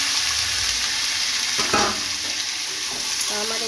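Vegetables and whole garam masala sizzle loudly in hot oil and ghee, a constant close frying hiss with a few stirring scrapes and clatters partway through.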